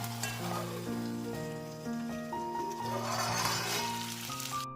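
Chicken liver pepper dry cooking in a covered pan over a low flame, a steady close sizzle and frying crackle with no voices, alongside a loud sustained tonal hum that stays at the same level throughout.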